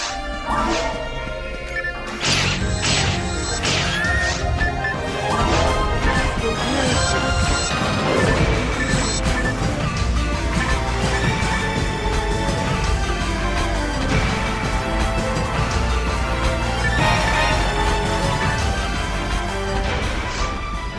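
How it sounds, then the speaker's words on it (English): Busy, loud electronic Nintendo DS game theme music plays continuously with dense layered instruments and bright percussive hits throughout. "The theme on my Nintendo DS is this music."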